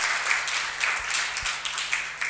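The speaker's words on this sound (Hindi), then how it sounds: "इसके लिए अपने लिए जोर से ताली बजा दो एक बार" An audience at a one-day college workshop claps steadily, a dense, continuous patter of many hands filling the room at moderate volume.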